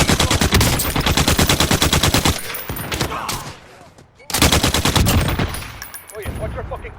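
Rapid automatic gunfire rips through a Warzone video game match in long sustained bursts, pausing briefly before another loud burst resumes, with voices calling out between shots.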